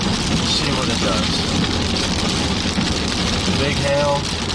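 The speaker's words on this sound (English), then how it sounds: "Big hail." Heavy hail and rain pound down during a tornado-warned storm near White Settlement in the Dallas–Fort Worth area, a dense, constant roar filling the whole clip with faint voices mixed in.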